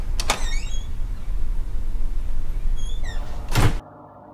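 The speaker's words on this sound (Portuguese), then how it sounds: "já é uma porta" A door slides and thuds shut at the start of a music video intro, loud and close, with a second heavy door sweep near the end before abrupt silence.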